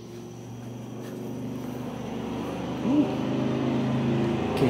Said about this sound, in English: Can you hear that loud truck right now?